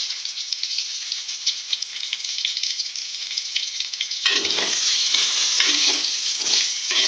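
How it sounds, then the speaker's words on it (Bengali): Boiled potatoes frying on a hot griddle with a little saffron for a Bengali bhetki fish biryani, a steady loud sizzle that turns crackly and more uneven partway through, with no talking. "এটা ভাজবার সময় এটা আমি অল্প পরিমাণে কালারটার জন্য আলুগুলো জাফরান দিয়ে দেবো।"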